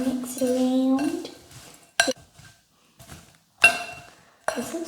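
Popcorn and candy pieces are tossed and mixed in a bowl for unicorn-inspired flavoured popcorn, with a few loud rattling clatters and clinks separated by quiet gaps, close up and with no talking.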